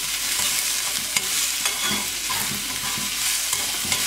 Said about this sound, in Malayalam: നമ്മൾ ഉള്ളി വാടുന്ന വരെ നന്നായിട്ടൊന്ന് മിക്സ് ചെയ്യാം